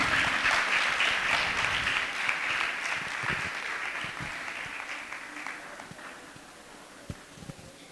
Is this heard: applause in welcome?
yes